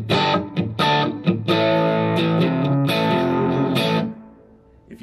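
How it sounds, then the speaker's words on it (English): Godin Telecaster electric guitar played through a Spark amp on its crunch channel, with overdriven chords and notes ringing loud and close, sustaining for a few seconds before fading. "this is the second channel on the amp, which has more of a crunch and less of a full shred distortion"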